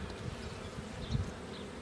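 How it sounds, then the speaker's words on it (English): Honeybees from a newly installed package buzz close by during a hive inspection, a continuous hum with a few individual bees swelling louder as they pass near. "Got a little fuzzy bee, a little baby that was hatched."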